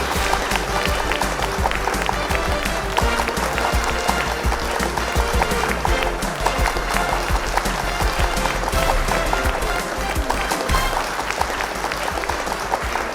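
Loud, steady applause from a large audience at a student quiz competition grand finale, dense clapping filling the hall without a break.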